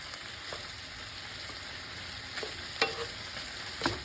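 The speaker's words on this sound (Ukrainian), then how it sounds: "Помішуючи, смажимо до прозорості цибулі." Sliced onions sizzle steadily in a hot pan, frying until translucent, with a few scraping stirs cutting through the continuous frying hiss.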